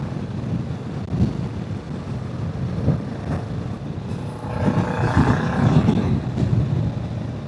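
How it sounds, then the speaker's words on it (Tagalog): Strong wind buffets a DJI Mic Mini clipped to a DJI Osmo camera outdoors, loud continuous rumbling gusts that surge stronger in the second half, with no one talking. "Pero sobrang lakas kasi ng hangin dito guys."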